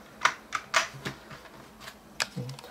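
A few sharp plastic clicks and taps, close and irregular, as a keycap is pressed and snapped onto an NKEY P1 keyboard.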